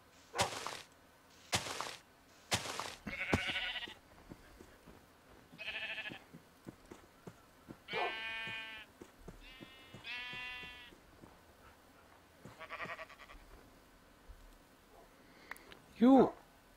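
Sheep in Minecraft bleat several times in short, scattered calls, mixed with thuds and other game sounds and a brief voice near the end.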